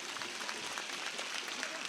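A crowd at an outdoor political rally applauds in a steady, dense wash of clapping that holds for the whole stretch without a break.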